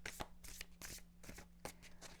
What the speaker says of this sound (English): All right, we're going to do a couple more shuffles here.